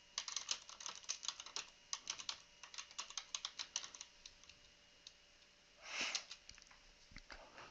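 Fast, quiet typing on a computer keyboard as a router command is entered, bursts of light clicking keystrokes that pause briefly, followed by a soft sniff, close and alone.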